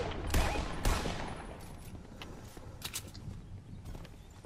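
Gunfire in an online battle-royale style video game, a couple of sharp nearby shot bursts early, then quieter scattered shots and impacts continuing at moderate distance, with no talking.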